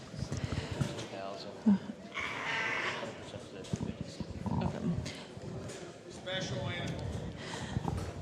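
A Dorper sheep bleats a few times in a livestock sale ring. An auctioneer talks over it almost without a break.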